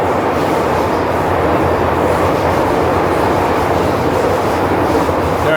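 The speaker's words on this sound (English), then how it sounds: "Loud, this metro." Loud, steady roar of a Hong Kong metro train in motion, a dense, continuous rumble and rail noise filling the carriage throughout with no pauses.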